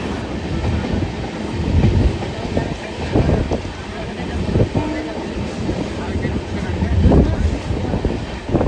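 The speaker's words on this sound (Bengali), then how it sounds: "এই রুটে আমাদের ট্রেন ম্যাক্সিমাম স্পিড 110 কিলোমিটার/আওয়ার।" A fast express train on the Kolkata to Tarapith route, running at up to 110 km/h, rumbles along the rails, loud and close, with rattling carriages and rhythmic wheel clatter; voices are faintly audible at times.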